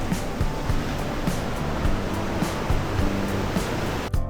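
Ocean waves breaking at Greweng beach, a loud, dense roar of surf with steady rushing wash and recurring low thumps, close and continuous without speech.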